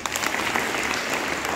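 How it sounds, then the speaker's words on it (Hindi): Dense applause from children at a youth motivational gathering, steady and close throughout with no pause. "वेरी गुड, तालियां बजाओ।"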